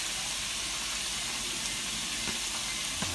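Seafood gumbo ingredients sizzle and crackle steadily in a hot pan, a dense hissing fry close up with no talking.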